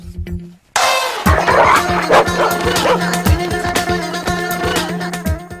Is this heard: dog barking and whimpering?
yes